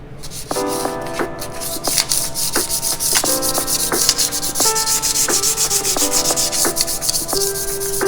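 Fine sandpaper rubs along the exhaust pipe of a Ducati Monster 696 in quick back-and-forth strokes, a close, steady scratchy rasp with a faint ringing from the metal pipe.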